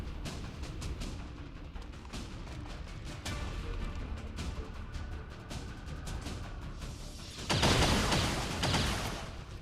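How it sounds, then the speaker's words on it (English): Rapid volleys of gunfire ring out in the video game XCOM 2, dense crackling shots running throughout, then a louder burst near the end. "Gonna take some shots, but they miss."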